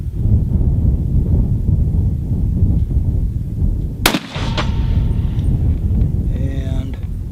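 A single sharp .300 Winchester Magnum rifle shot firing a square back bullet cracks out loudly midway, trailing a short echo over steady outdoor wind rumble.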